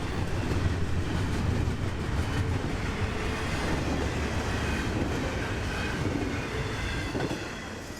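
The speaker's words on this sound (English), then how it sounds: "they can get away with freight consists like this: rock, manifest, and intermodal all in the same train" A mixed freight train of rock, manifest and intermodal cars rolls past in West Palm Beach, South Florida, its rumbling wheels and rattling cars loud and close, easing slightly toward the end.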